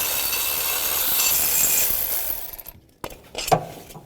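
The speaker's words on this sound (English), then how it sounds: "So use an 18mm socket, loosen those up." Bracket bolts on a 2009-2017 Chevy Traverse are loosened with an 18mm socket during water pump replacement, a loud rattling power-tool hammering that cuts out, then a few sharp metallic clicks and clunks.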